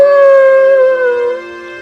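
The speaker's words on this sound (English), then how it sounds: "howled the wolf" A wolf gives one long, loud, sustained howl that slowly falls in pitch and fades, heard alone with nothing else around it.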